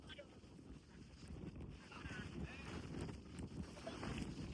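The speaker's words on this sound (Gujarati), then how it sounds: "પવને બહુ એટલે મારો અવાજ હરખો નહીં આવે." Strong wind on the old stone steps of Girnar mountain, with light rain, rumbles and buffets the microphone as a low, continuous roar under a person talking.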